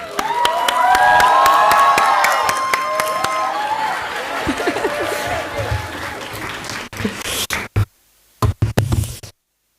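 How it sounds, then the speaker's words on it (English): A crowd at a startup competition grand finale at Mount Carmel College bursts into loud applause with some cheering as a speaker comes on stage, the clapping gradually thinning into scattered claps before fading out. "Please give a biggest round of applause to our favorite Rohan sir."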